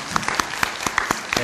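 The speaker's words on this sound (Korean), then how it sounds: "우리 박수로 축복합니다" A church congregation claps for missionaries during a morning service, distinct sharp claps from a modest crowd in an uneven rhythm, close and clear.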